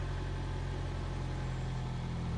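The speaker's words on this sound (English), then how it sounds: "I can see that the front of the car is slightly lifted up and the engine noise has slightly dipped." A car engine idling at the clutch biting point, a steady close low rumbling hum with constant loudness and no talking.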